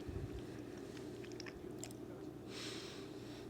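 Soft, quiet chewing of a dense, chewy ancient Roman honey cake with crunchy nuts and rosemary, a few close mouth sounds and light crunches over low background hum.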